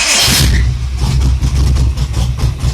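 Engine of a 1979 Chevy Monza cranks and fires up, settling into a loud, close, rough running rumble with uneven pulses throughout.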